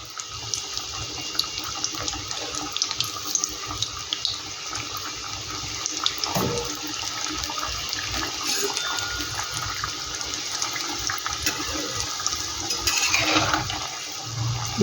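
Layered khaja pastries deep-fry slowly in oil, giving a steady, bubbling hiss that stays fairly loud and close for the whole stretch, with no talking.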